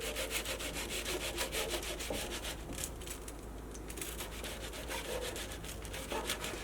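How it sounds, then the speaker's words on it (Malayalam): A knife saws through slices of bread to halve them while preparing a bread-and-egg tea-time snack. Close, continuous rasping strokes run throughout with no voices. "ബ്രെഡിൽ നിന്ന് ഓരോ സ്ലൈസ് എടുക്കുക ഓരോ സ്ലൈസ് ബ്രെഡും ഇതേപോലെ നമുക്കിങ്ങനെ ഹാഫായിട്ട് കട്ട് ചെയ്യാം"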